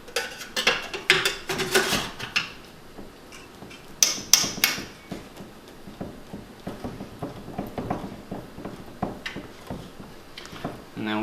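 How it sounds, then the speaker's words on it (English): Clattering metal knocks and scrapes as a lid is set onto the boiling chamber of a water distiller, with a few sharp clanks near the start and middle. "so we're just going to put the lid on."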